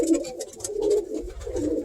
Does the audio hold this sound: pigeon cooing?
yes